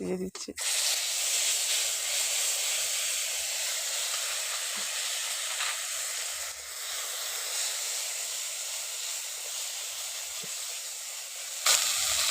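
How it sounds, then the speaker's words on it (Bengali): Cumin and chili paste cooking in oil with added water gives a loud, steady hiss of sizzling steam that holds almost unbroken for about twelve seconds. "জলটা দিয়ে মশলাটাকে একটু কষে নিচ্ছি"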